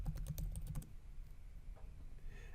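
Quick, close clicks of typing on a computer keyboard, a fast burst of keystrokes at the start followed by a few scattered softer taps, with no talking.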